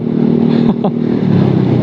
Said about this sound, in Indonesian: Mungkin kedengaran knalpot yang saya pakai ini ya.